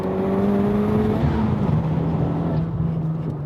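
Toyota Supra SZ in a 2-liter turbo class mountain pass race against an FK8 Civic Type R, engine note climbing steadily under acceleration, loud and close, then shifting to a lower tone as revs continue.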